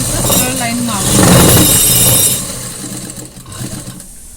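Sewing machine stitching a straight-line hem on a pyjama bottom: a loud, steady mechanical whir close up that fades out partway through, with a person speaking over it.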